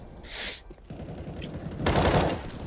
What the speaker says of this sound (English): Shorty sends some bullets that way.